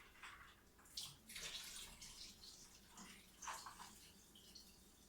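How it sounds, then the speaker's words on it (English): Excess ice water is poured out of a container during cold process soap making, a quiet splashing trickle that rises and falls in a few uneven bursts, with no talking. "I got a little too much ice water in here, so I'm going to pour a little bit out"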